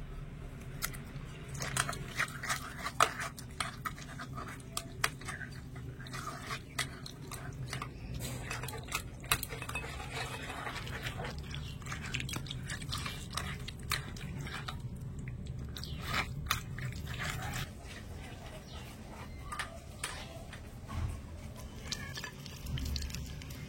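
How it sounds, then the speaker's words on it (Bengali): Ripe mango pulp rubbed by hand through a sieve set over a bowl while making mango leather, giving a steady wet squishing and scraping with soft crunchy clicks for about twenty seconds, close and moderately loud, with no talk. "এবারে বাটির মধ্যে চালনি বসে এই আমগুলো নিয়ে এইভাবে করে একটু ঘষে নেব।"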